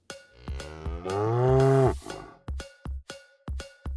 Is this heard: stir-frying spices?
no